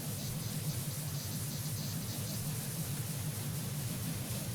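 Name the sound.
pressure washer water spray, from the video game PowerWash Simulator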